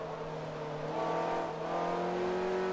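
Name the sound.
Ferrari F430 engine in video game Forza Motorsport 3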